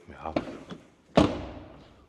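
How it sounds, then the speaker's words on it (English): A frameless door on a BMW 2 Series Gran Coupe shuts with one solid, close thud, preceded by a couple of lighter knocks and followed by a short fading resonance. "we rarely have vehicles where we have a good door closing sound when we have frameless doors"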